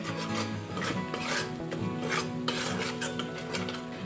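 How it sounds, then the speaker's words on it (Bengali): Gram flour with spices is stirred and fried in a pan for a soybean kofta curry, a continuous close scraping and rubbing of a spoon against the pan with light clinks and no voices. "এখন বেসনটা খুব ভালোভাবে ভেজে নিতে হবে, নইলে কাঁচা বেসনের গন্ধ ছাড়বে।"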